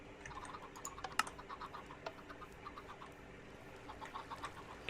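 Chickens clucking in the video game Minecraft, a chicken faucet contraption, several short faint clucks and chirps scattered over a steady low hum, no voices.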